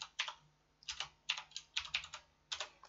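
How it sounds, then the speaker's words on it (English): Someone types a postcode on a computer keyboard in quick clusters of clicks and taps with short pauses between them, close and clear with no talk. "I'm going to be typing in that postcode."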